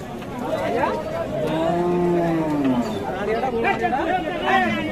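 Bulls and other cattle moo at a busy rural cattle market in Kaharol, Dinajpur. A long, drawn-out moo rises over constant crowd chatter and nearby talking.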